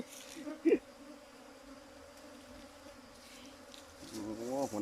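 Wild cavity-nesting honey bees hum steadily at their nest, a continuous close buzz with a brief louder pass from a single bee near the start and swelling activity toward the end.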